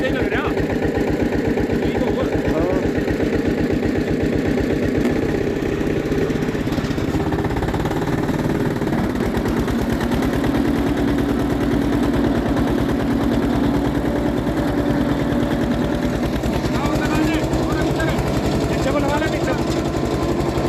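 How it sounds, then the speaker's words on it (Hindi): A tractor engine runs steadily on a village farm with a low, throbbing mechanical rumble that stays loud and close throughout, its pulsing beat continuous with no pauses. "वो ट्रैक्टर चला रहे हैं"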